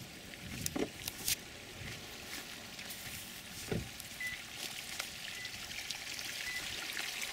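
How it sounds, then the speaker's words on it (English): Water pours and trickles from polypipe irrigation into a weedy soybean field in Mississippi County, Arkansas, a steady outdoor wash with a few louder splashes early on. "This is polypipe irrigation in Mississippi County, Arkansas, on a farm next to farm 2981."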